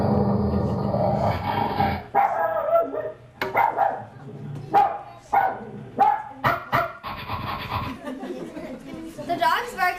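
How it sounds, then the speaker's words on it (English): Cerberus, a fierce dog, snarls and barks in a run of sharp, aggressive bursts with growling between them, loud and close, under a voice talking throughout. "Orpheus heard the fierce dog snarling at him."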